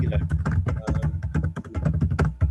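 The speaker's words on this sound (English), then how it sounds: "Is that you typing, Rajiv?" Typing on a computer keyboard picked up during an online meeting, a rapid steady patter of close key clicks running throughout at fairly loud level.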